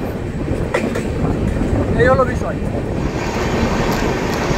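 The Howrah–New Delhi Poorva Express passenger train rolls slowly over tracks under repair near Dankuni, a loud steady rumble heard from inside a general coach, with a brief squeal and someone speaking over it.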